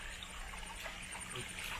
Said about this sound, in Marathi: फक्त इथे पाण्याचा आवाज.